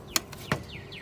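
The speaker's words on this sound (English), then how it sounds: "Got a lot of birds chirping today." Soft, high bird chirps sound faintly in the distance, with two brief sharp knocks or taps nearer by.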